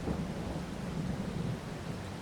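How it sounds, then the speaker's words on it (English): Steady rain with low rumbling thunder in Farming Simulator 22, a continuous, even wash of noise with no talk, holding at a moderate level throughout. "So, it's still raining."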